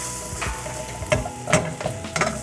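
Butter and flour roux stirred in a saucepan for creamy scalloped potatoes, a soft continuous sizzle with four or five distinct scraping strokes of a utensil against the pan, close up with no talk.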